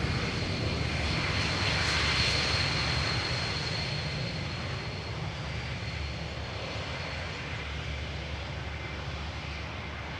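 An Airbus A321 airliner passes at Amsterdam Schiphol airport on a misty day, its engines a steady, loud roar that swells slightly early on and then holds a broad, continuous rumble.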